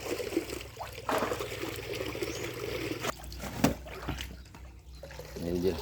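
Water flowing and trickling as a gourami fish pond is drained for harvest, a steady outdoor wash of running water with people talking over it.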